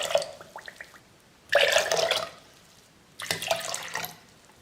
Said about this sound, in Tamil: இதே கப்பில் இப்போ 3 கப் அளவுக்கு தண்ணி சேர்த்துக்க போகிறேன்